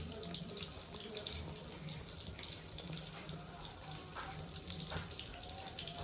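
Bottle gourds are rinsed whole under running water, a steady splashing tap stream close by with faint trickles and no talk.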